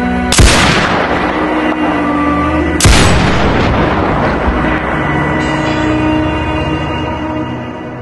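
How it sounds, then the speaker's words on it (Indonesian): Two heavy gunshot booms, a couple of seconds apart, each rolling into a long rumbling echo that fades slowly. "Tiba-tiba terdengar samar suara tembakan dari kejauhan."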